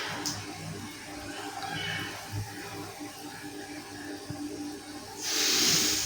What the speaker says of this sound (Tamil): இதையும் போட்டு மிக்ஸ் பண்ணி அந்த தக்காளி நல்லா மசிகிற வரைக்கும் போட்டு வதக்கணும்